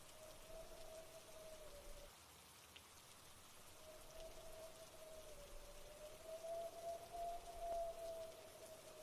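Steady rain falls in a soft, continuous hiss that stays faint and even throughout, with no voices.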